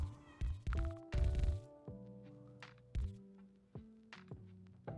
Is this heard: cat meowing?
yes